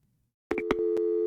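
A phone line clicks off in the Gabriel Knight video game, and a steady electronic hang-up tone follows, loud and clean after a brief silence and a few short clicks.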